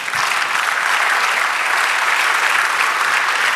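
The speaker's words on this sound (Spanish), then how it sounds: "Dale un aplauso al Señor." Steady congregational applause fills a church service, dense and even clapping from a crowd that holds at a constant level for several seconds without pause.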